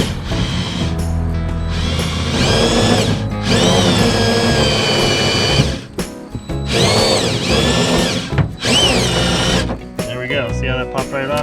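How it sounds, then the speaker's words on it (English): Power drill boring into the cracked hull of a 1969 SeaNymph boat, angled toward center; a loud whining motor rises and falls in several sustained bursts with brief pauses, close and dominant throughout. "Get with a little what I call creative drilling."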